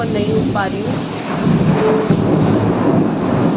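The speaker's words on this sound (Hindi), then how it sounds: "बिजली कड़क रही है ये।" Thunder rolls and rumbles through a rainstorm in Kotdwar, a low continuous roar under steady rain, while someone talks over it.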